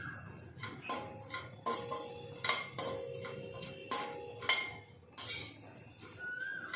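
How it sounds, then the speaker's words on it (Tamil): Neem flowers roasting in a pan on a low flame, with repeated metallic scrapes and clinks of a spoon against the pan every second or so, close and fairly quiet, with no talk. "ஸோ ஃபஸ்ட்டு நம்ம வேப்பம்பூவை வறுத்துப்போம். அடுப்பை சிம்மில் வச்சுட்டு கருகாதபடிக்கு வறுக்கணும்"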